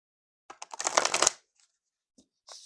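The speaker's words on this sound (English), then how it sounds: "Yeah, I love the shuffle." Riffle shuffle of a large oracle card deck: one dense crackling burst lasting about a second, then a few faint card taps and a short soft flutter at the end, close up with no talk.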